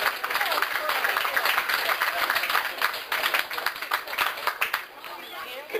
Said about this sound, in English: Go a round of applause for Angela, everybody.